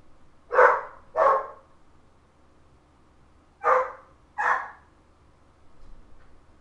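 A dog barks four times nearby, in two quick pairs separated by a pause of a couple of seconds, with nothing else heard around the barks.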